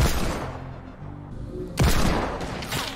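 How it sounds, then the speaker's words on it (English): Heavy sniper rifle shots in Fortnite, a deep booming report followed by a second sharp blast partway through, loud and close, with rumbling echo between. "Oh, I almost got heavy sniped"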